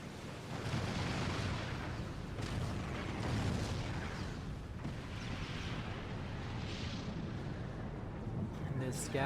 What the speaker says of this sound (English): Scathis now firing away, trying to counter battery fire the Scathis of Gid